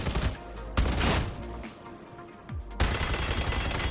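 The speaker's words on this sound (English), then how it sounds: "So stubbers, when they crit, they don't crit once. Look at that. They crit 6 shots in a row." Ogryn's heavy stubber machine gun in the Darktide video game firing loud, close bursts of rapid shots with short pauses between volleys.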